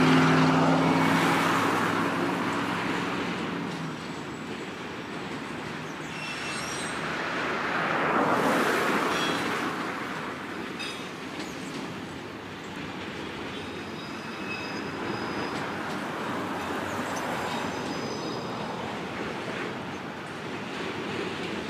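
A Norfolk Southern freight train hauling autoracks, including an older Conrail rack with a Trailer Train logo, rolls past close by in a sustained loud rumble and rattle, with faint wheel squeal and swelling clatter as the cars go by.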